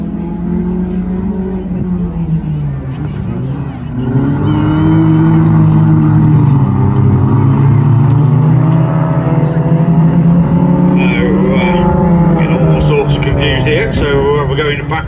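Stock hatchback race cars run a heat on a circuit at a ladies and juniors national meeting, engines droning and rising in pitch as they pass, loud and continuous, with a commentator talking over it.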